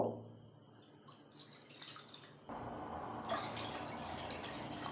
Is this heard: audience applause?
no